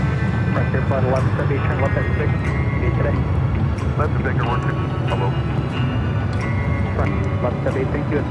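A jet airliner at Los Angeles LAX airport rumbles in a broad, continuous roar under near-constant talk and radio chatter.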